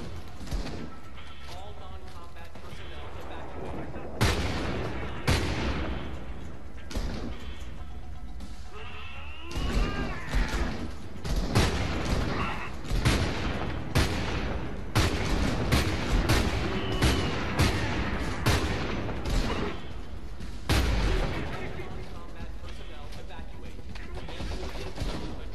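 Gunfire from a handled gun in Homefront: The Revolution, heard as repeated sharp bursts and shots scattered through a dense, noisy game mix with a voice talking over parts of it.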